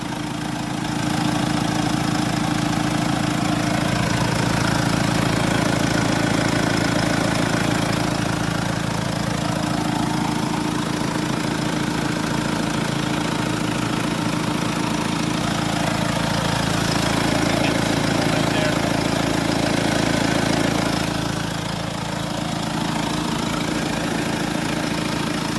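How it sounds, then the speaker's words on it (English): A Mercedes E-Class diesel idles steadily up close while DPF cleaning fluid is fed in through a pipe on the DPF hose, a constant low clattering drone with a slight dip in level toward the end. "Doing this with the engine running."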